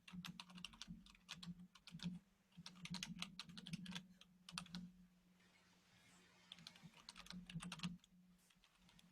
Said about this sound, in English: And so as you're typing this